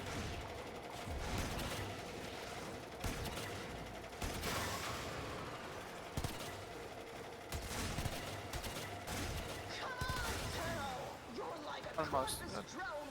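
Gunfire in a video game as a player shoots at panels, with bursts of shots and booms scattered through the stretch under steady talk and game sounds.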